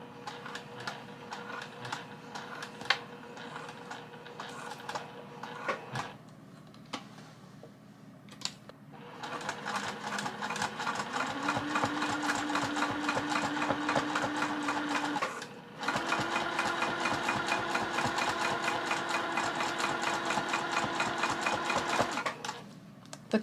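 A sewing machine stitches slowly through quilted patchwork fabric for a book cover, soft rapid ticking that starts and stops, then runs in two longer steady stretches, with a faint motor whine rising under the stitching.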